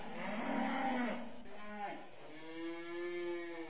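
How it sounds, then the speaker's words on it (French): Cows low close by in a cattle shed, a couple of drawn-out, wavering moos following one another with no voices over them. "Nous voilà dans les vaches."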